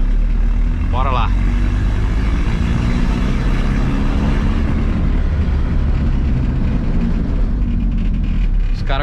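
A turbocharged VW Gol's engine drones steadily and loudly throughout while driving, with a brief higher whine early on and someone talking over it.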